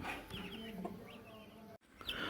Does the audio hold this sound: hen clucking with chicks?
yes